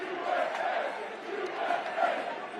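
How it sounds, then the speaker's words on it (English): A stadium crowd at a Yankees game roars and cheers for Trump, a broad sustained swell of many voices with two louder surges, heard from within the stands. "He was met with cheers from the crowd"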